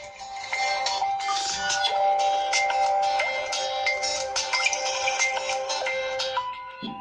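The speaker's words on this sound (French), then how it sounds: "Sonnerie du téléphone." A THL T7 smartphone plays its ringtone through its speaker: a bright, melodic electronic tune with repeating notes and chiming accents, loud and close, continuing for several seconds without talk.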